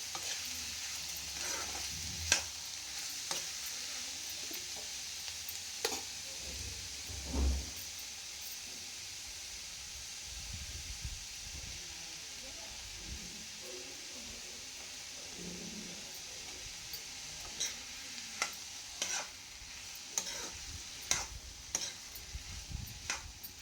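Ridge gourd curry with onion and tomato sizzles and fries steadily in a pan, with occasional sharp clicks and scrapes of stirring rising above the constant hiss.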